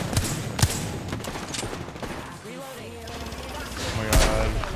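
Apex Legends gunfire comes as sharp, close bursts of shots over constant game noise, with a loud burst near the end and players talking throughout.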